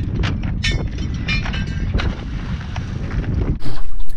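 Strong coastal wind buffets the microphone beside a small aluminium boat on a remote island shore, a loud continuous roar with gusts and a sharp surge near the end; no speech.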